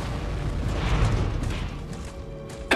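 Heavy booming cannon blasts from the video game Iron Harvest rumble and roll together, with a sharp pop near the end, sounding like loud game battle effects.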